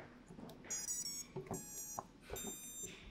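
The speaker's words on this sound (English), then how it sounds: "Those chimes you're hearing there are from the ESC." An electronic speed controller on a Proton Pack build, powered from a 3S LiPo battery, gives short rising electronic chimes and beeps in two quick sets over a faint background hiss, with no talking.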